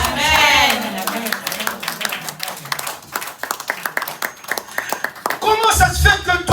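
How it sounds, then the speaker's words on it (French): A church congregation claps in a steady run of sharp hand claps for several seconds. Voices can be heard at the start and again at the end. "Est-ce que tu peux acclamer?"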